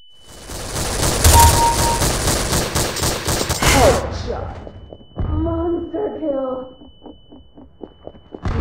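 Rapid bursts of gunfire in Counter-Strike: Source on the de_ziba map, a dense volley followed by a headshot sound, then a game announcer voice calls out the kill over quieter clatter.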